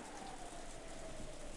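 Steady rain from a visual novel game scene falls in a dense, even hiss with a faint low tone running underneath, with no voices and no pauses.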